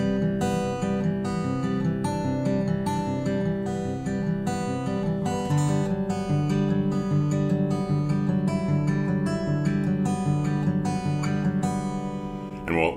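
Acoustic guitar playing an easy fingerstyle Travis-picking theme, a steady alternating bass under plucked melody notes, continuous, close and clear, with no talking over it.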